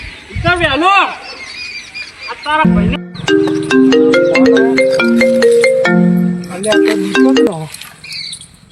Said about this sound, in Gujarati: મને એક જણને ફોન કરવા દે